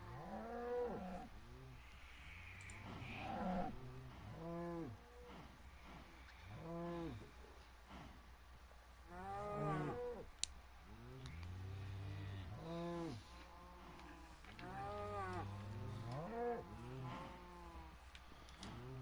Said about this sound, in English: That's a lot of mooing.